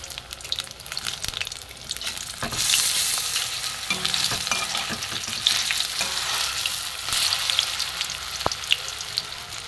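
Bitter gourd slices fry in hot oil in a pan, giving a steady bright sizzle with occasional scraping and clinks as the pieces are stirred and turned, heard alone without any voices.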